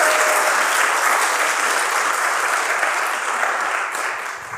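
A church congregation applauds the children during a Thanksgiving Sunday service, a dense, steady wash of clapping from a large room that holds loud throughout and only begins to thin slightly near the end.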